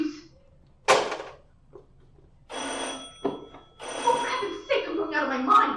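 An old telephone bell rings in short bursts as a radio drama sound effect, mixed in with a voice speaking between and over the rings.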